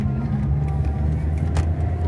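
A VW Gol G3 16V engine misfiring while climbing a hill, a steady low droning rumble from inside the car with slight unevenness and a brief knock near the end.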